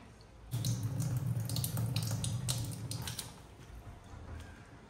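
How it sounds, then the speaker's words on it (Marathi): Water splashing and sloshing steadily as flattened rice (poha) is rinsed in a bowl, with soft rustling and small clinks, close by. "सफेद पाणी जोपर्यंत जात नाही तोपर्यंत मस्त असे पोहे धुवून घ्यायचे"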